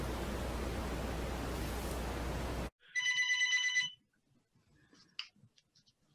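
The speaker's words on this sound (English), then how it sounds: "he answers phone calls from prospective new members" A telephone rings with a short burst of loud electronic trills after a stretch of steady hiss, followed by faint clicks and handling noises as the call is picked up.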